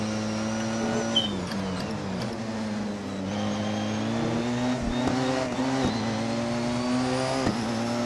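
A 2016 Porsche 919 Hybrid race car lapping the Brands Hatch Indy circuit in Assetto Corsa, its engine droning loud and close, pitch rising and falling through gear changes and corners, with occasional tire noise.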